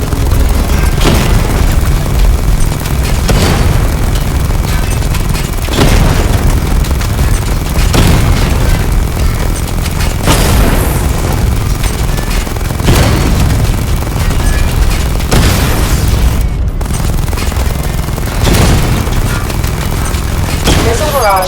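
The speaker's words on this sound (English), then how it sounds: "Destroy targets to charge up weapon energy and activate missile barrage." Missile barrage explosions in the game Batman Arkham Knight thunder as a loud continuous stream of deep booms and rapid blasts, with regular heavier impacts every couple of seconds and a voice occasionally heard over them.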